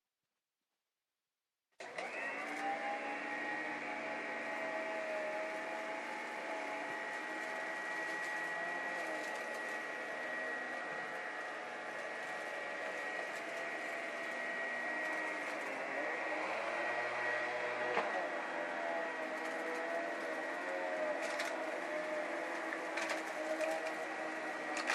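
A vintage Filter Queen canister vacuum cleaner switches on after a moment of silence and keeps running with a steady, droning whir for a long stretch.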